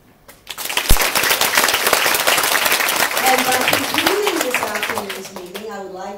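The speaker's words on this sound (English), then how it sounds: "I want you to join me in giving our applause to our fascinating panelists." An audience at a women's leadership panel event applauds the panelists, a full burst of clapping that builds quickly and holds, then thins as a voice starts speaking over the tail end.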